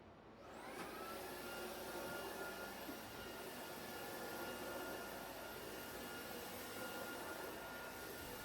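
A household vacuum cleaner starts up and runs steadily, a loud, even whir and hum close by, filling the whole stretch with no talk.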